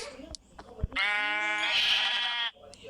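A sheep in Minecraft lets out a single drawn-out bleat of about a second and a half. It comes close and clear between scattered soft game clicks and taps.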